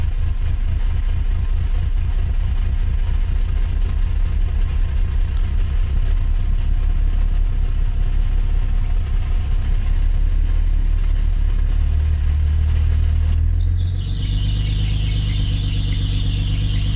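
A rebuilt Nissan 300ZX engine with both fuel pumps disconnected runs loud and close with a rapid steady pulsing, then near the end shifts as a high squeal and hiss rise over it.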